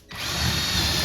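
A power drill fitted with a bit starts abruptly and runs at a steady, close, buzzing whine for about a second.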